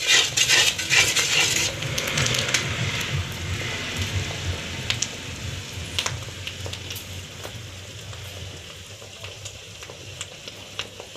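Curry leaves fry in hot oil in a pan, giving a steady, close crackling sizzle that is loudest at first and then settles into softer, sparse pops.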